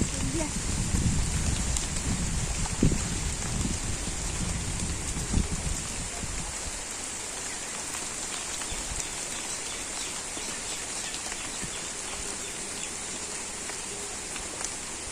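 Rain pours steadily on a wetland village on a rainy day, a dense, even hiss throughout, with low voices and rustling mixed in during the first few seconds before only the rain remains.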